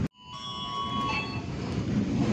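Passenger train KA Rajabasa, an Indonesian railway service running between Palembang and Bandar Lampung, rumbles steadily and close. A short electronic chime sounds at the very start, with no talk.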